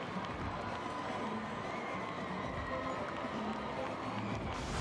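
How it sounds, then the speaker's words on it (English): A large cricket crowd at a West Indies Test roars and cheers after a six is struck, a continuous dense wash of voices and noise that holds steady and loud throughout. "crowd comes alive."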